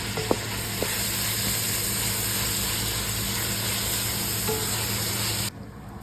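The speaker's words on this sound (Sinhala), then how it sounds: "ග්‍රීන් ටික හොඳට බ්‍රවුන් කලර් එක වෙනකම් සොටේ කර ගන්න ඕන" Steady, close sizzling of food frying in a hot pan, a constant crackling hiss with a few faint clinks, cutting off abruptly at the end.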